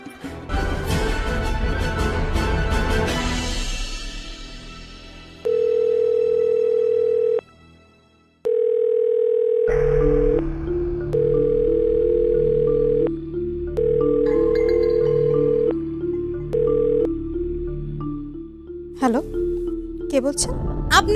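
A telephone gives a run of steady electronic tones while a call is placed, in long even bursts with short gaps and one silent pause, after a louder mixed stretch at the start.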